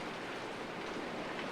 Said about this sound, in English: One shouldn't run in the rain.